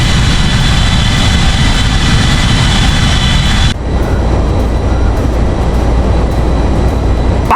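Airbus A320 jet engines on approach in the X-Plane 11 flight simulator, an Etihad airliner: a steady, loud, broadband roar with a constant low rumble, shifting abruptly to a slightly duller tone midway through, no talk.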